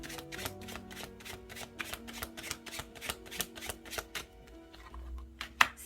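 Tarot cards shuffled and drawn by hand, a steady run of quick papery riffs and flicks, close and fairly soft, with no talking over them.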